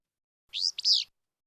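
Recorded flycatcher high fizz-bew song, a single short phrase of two buzzy, high-pitched sweeping notes, crisp and alone with no background.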